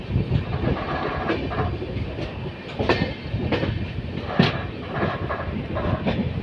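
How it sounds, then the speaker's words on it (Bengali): Train cars rolling past a railway crossing on the line toward Siliguri Junction, a steady rumbling wash with faint repeated wheel clicks, loud and close throughout. "সামন দিয়ে বোধ হয় একটা ট্রেন ঢুকছে"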